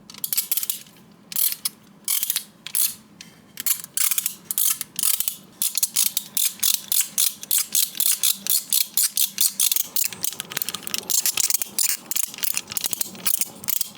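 Rapid plastic ratchet clicks from an action figure's joints, repeated in quick bursts and steady runs, close and crisp with no talking.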